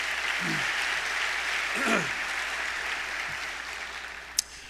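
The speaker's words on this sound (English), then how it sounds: "So let's give those vendors a very big round of applause." Applause for vendors at a furniture store's teacher appreciation event, a soft, distant, sustained patter of many hands, with a brief voice rising in the middle and a sharp click near the end.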